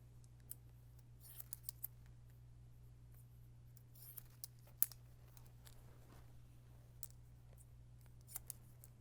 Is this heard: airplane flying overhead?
no